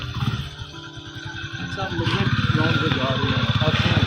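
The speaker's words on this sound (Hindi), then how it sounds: "मफिन का माइंड डाइवर्ट करने के लिए ना इसको बाइक राइड दे रहे हैं ताकि ज़रा खुश हो जाए" A motorbike ride, the engine settling into a rapid rhythmic putter after a rougher start, close by, with voices talking over it.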